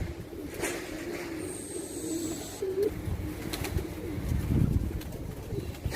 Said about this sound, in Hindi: ये मादी बैठ रही है, इसके ऊपर दो और कबूतर है